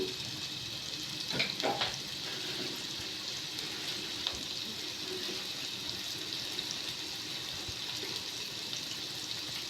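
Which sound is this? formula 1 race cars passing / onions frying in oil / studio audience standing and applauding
onions frying in oil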